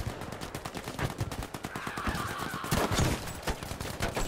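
Rapid gunfire from the video game Battlefield V rattles in dense, loud automatic bursts, close up and continuous, with a heavier blast near the end.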